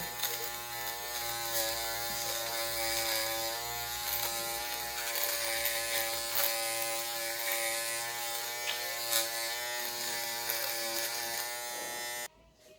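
M Black dual foil electric shaver running in a dry shave, a steady close buzzing whine with rasping mechanical texture as it moves over stubble, continuing for about twelve seconds before cutting off abruptly.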